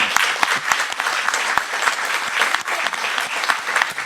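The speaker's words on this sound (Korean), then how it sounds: "크게 박수 한번 주세요." Studio audience on a Korean news talk show claps vigorously and continuously, dense and close, with no talking over it.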